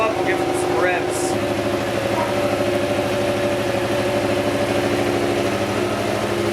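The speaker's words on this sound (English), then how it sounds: "We'll let it warm up. We'll give it some revs." Yamaha FZ-07 motorcycle with a modified exhaust idles steadily with a deep, even rumble, close and continuous, a cold engine warming up, with a brief rising rev early on.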